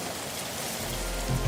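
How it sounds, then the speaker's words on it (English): Rain falls outside before a wedding, a steady, close patter on surfaces that continues without a break for a brief moment. "The rain kind of delayed things"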